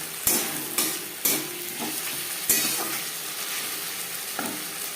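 Silver carp fish and potato pieces sizzle steadily in a hot pan while a spoon stirs them, with a few sharp scrapes and clacks against the pan over the constant frying hiss.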